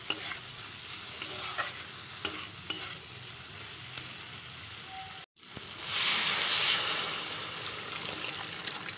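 Boiled peas are tipped into fried spice paste in a pan for ghugni, with steady stirring and scraping, then a louder burst of hissing sizzle as they hit the hot oil, continuing with a close-up crackle.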